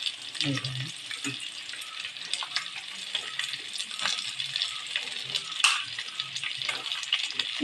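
Onions and green chilies sizzle and fry in a hot pan, a soft continuous crackle with occasional stirring clinks and scrapes, fairly quiet and close.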